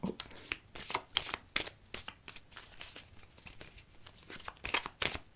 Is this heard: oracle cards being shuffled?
yes